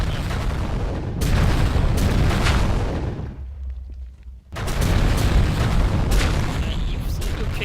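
Heavy, roaring explosion bursts from the Minecraft Titans mod, with a loud rumbling blast, a brief drop to near silence, then another sustained booming eruption.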